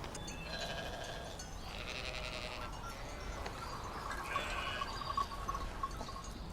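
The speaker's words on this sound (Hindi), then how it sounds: "तुमने भेड़ों को इस जवान का खेत खराब करने क्यों दिया?" Sheep bleat from a flock in a farm field over a steady outdoor background, with several overlapping calls at moderate distance.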